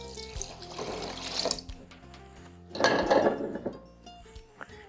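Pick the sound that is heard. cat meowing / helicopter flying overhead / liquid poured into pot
liquid poured into pot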